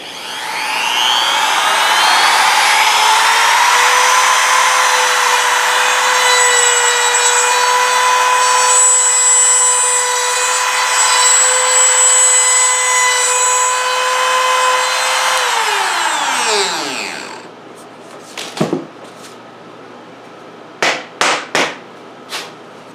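A Harbor Freight Bauer trim router runs at high speed, a loud steady whine held for about fifteen seconds before winding down, followed by a few sharp knocks and clatters, with no talking.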